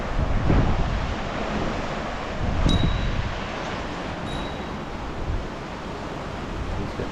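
Continuous rushing river water with a broad, steady roar, some gusty wind buffeting, and no talking; Bowness Park.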